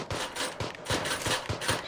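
Rapid bursts of gunfire in the video game PUBG, several loud, sharp shots fired in quick clusters across a couple of seconds, close and dominating with no talk over them.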